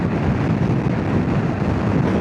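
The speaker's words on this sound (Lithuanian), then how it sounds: "Oi, koks vėjukas." Strong wind roars against the microphone during a motorcycle ride, a close, loud, unbroken buffeting rush lasting a couple of seconds with no talk.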